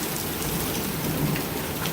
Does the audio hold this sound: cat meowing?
no